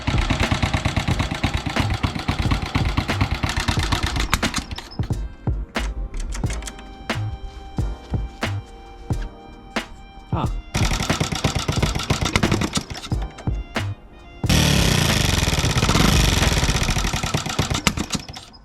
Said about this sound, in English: the bike's running